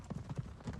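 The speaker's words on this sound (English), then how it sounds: "cracking his whip over the shoulder of the swiftly trotting horse" Hooves of a swiftly trotting horse clip-clop in a quick, even rhythm, a close and steady sound effect from an audio drama, with no voices over it.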